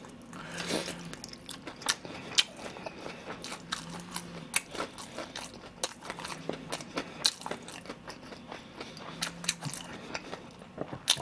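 Crisp fried pork cutlet (tonkatsu) bitten and chewed close up, a steady run of sharp crunches and crackles repeating over several seconds with no talk.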